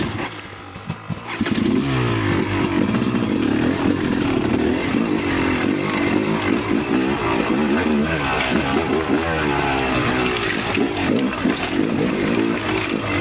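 Yamaha YZ300 electric-start dirt bike engine roaring steadily at high revs, loud and close, with rising and falling throttle pitch sustained throughout after a brief quieter start.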